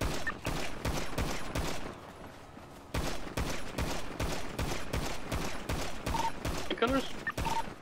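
Rapid automatic gunfire in GTA V NoPixel roleplay, dense bursts of repeated shots in a firefight at Mirror Park, loud and close, broken by a brief pause before resuming.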